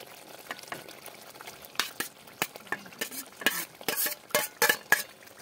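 Pointed gourd (parwal) is stirred into oily masala in a pan, giving a series of scraping, sizzling stirs that grow busier and louder toward the end, with faint frying hiss underneath and no talking.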